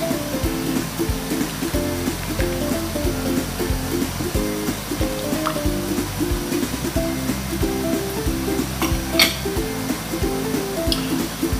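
Sauce of dried shrimp and palm sugar coming up to a boil in a pan, a steady close hiss and bubbling with soft irregular pops and faint stirring, no voices.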